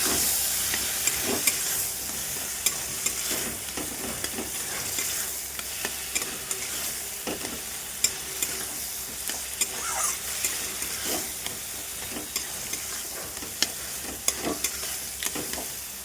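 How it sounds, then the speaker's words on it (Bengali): Fish frying in a pan at home: a constant crackling sizzle with frequent spatula stirs and sharp clinks against the pan, close and fairly loud, and no one speaking. "একটু পোকানি মাছ ভাজতে লেগেছি"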